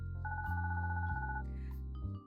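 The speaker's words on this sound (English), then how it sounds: "As you finish settling in, your phone starts to ring" A phone rings in a visual novel game, a short two-tone electronic ringtone over a steady, sustained synth music bed, clear and up front.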